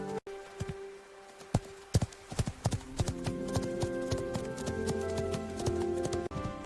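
Cartoon horse hooves clip-clop in a quick, steady rhythm, crisp and close, with a few sharp knocks and light background music underneath.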